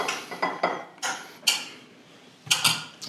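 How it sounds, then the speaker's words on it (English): Serving spoon knocking and scraping against a bowl while rice is dished up, a few quick close clinks and clatters in short bursts with brief pauses between, no talking. "So we're gonna put a little bit of rice in our bowl."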